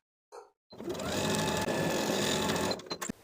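Sewing machine topstitching a seam on a pair of pants, a steady close whirring run of about two seconds after a short tap, ending with a few clicks as it stops.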